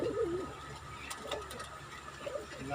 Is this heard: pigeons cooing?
yes